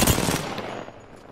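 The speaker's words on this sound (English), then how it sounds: "Getting shot at" Rapid gunfire in Apex Legends during a 2-on-3 fight: a dense, loud burst of overlapping shots at the start that decays over about a second.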